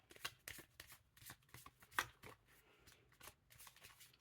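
Lenormand oracle cards being shuffled by hand, a quiet run of soft papery riffles and slides with one sharper snap partway through, close and alone without talk.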